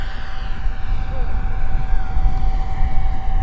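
3D-printed RC Martin P6M SeaMaster electric ducted fan model plane flying on its maiden flight, a loud steady whining whoosh with a sustained tone, heard outdoors with wind rumble and people talking nearby.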